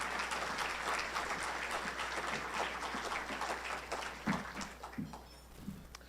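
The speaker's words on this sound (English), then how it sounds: "just wanted everybody to give her applause and say thank you for everything" Quiet, fairly distant audience applause for a therapist at a Heroes for Hope event, steady clapping that thins into a few scattered claps and murmurs at the end.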